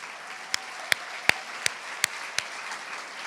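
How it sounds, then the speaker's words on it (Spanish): Audience clapping at an education event in Latin America comes as seven sharp, evenly spaced claps about every third of a second, fairly quiet against a soft background hiss. "yo les pido que los aplaudan"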